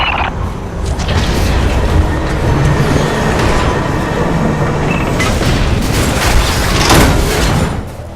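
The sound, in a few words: heavy cargo tram arriving, video game Lost Planet 3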